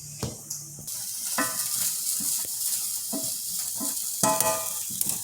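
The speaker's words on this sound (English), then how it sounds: "As we're cooking this pancetta." Pancetta sizzles and crackles in a pan for pasta amatriciana, a steady close hiss with occasional louder spits and the clink of stirring.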